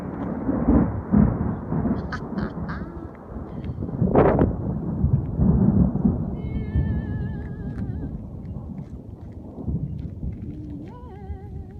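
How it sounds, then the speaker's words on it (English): Thunder rumbles loudly through a thunderstorm, with a sharp crack near the middle amid steady rain and wind noise, plus a few faint higher tones later. "there's lightning, so there's gonna be major thunder in a second."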